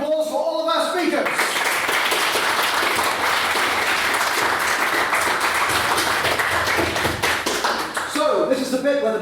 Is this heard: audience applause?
yes